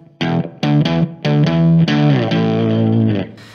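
An electric guitar runs through a multi-effects pedal set to an octave effect, playing a short phrase of distinct plucked notes with a thick, doubled tone, ending on a sustained note, with no voices.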